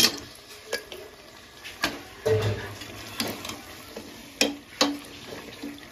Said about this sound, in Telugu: సో చికెన్ అనేది మనం ఇలా వేసుకోవాలి